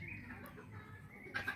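Chickens of another breed cluck faintly among other birds in the animal corner of a sanatorium in Shakhand, with soft, scattered calls and a brief louder burst near the end.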